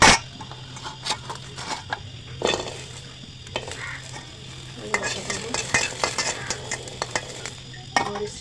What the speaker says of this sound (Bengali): এখন আমি আলু ভর্তার জন্য মরিচ ভেজে নেবো, পেঁয়াজ ভেজে নেবো।